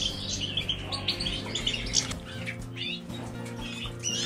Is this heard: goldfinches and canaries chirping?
yes